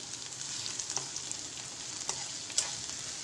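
Sliced onion browns in hot oil in a pan, a steady soft sizzle with a few faint pops and crackles, no voices.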